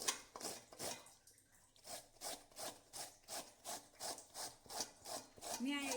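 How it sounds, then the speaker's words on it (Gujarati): Bell pepper (capsicum) is grated by hand for paneer bread balls, a close rhythmic rasping of about a dozen even strokes, with a brief clatter at the end. "હવે એમાં શિમલા મિર્ચ ખમણશું"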